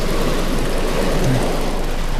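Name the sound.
heavy rain pouring on a car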